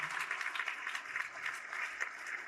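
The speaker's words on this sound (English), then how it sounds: "So let's give them a one round of applause again." Banquet audience at an awards ceremony gives a round of applause, a fairly faint, even wash of many hands clapping with slight swells, heard from a distance.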